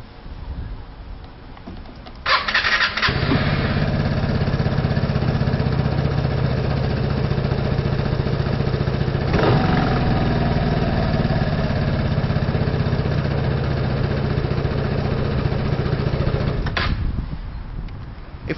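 Vespa LX 125 3V scooter with electronic ignition starting up after a brief crank, then settling into a steady, close-up idle hum that runs evenly for about fifteen seconds before easing off.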